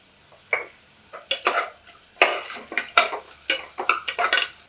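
Onions sautéing in a pan for a Chettinad-style chicken curry, heard as short bursts of spatula scraping and metal clinks separated by near-silent gaps, close up and without talk.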